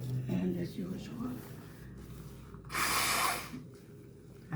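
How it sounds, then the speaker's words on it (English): Someone blows their nose in a short, loud, hissing burst of air partway through, with faint handling noise and quiet breathing before and after. "Excuse me, I had to blow my nose."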